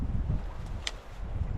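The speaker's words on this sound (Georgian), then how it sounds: "ისეთი ქარია." Steady wind buffets the microphone with a low rumbling roar at a lakeside campsite at Lake Tabatskuri, continuous and close, with no voices.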